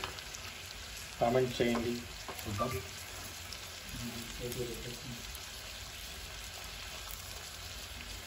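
Fish pieces frying in a pan, a soft steady sizzle running throughout at moderate level, with someone speaking over the first half.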